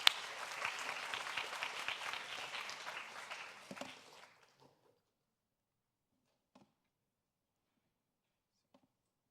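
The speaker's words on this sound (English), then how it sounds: "Let's welcome them and give them a round of applause." Crowd applause, a dense burst of clapping that fades out after about four seconds, followed by near silence with a couple of faint knocks.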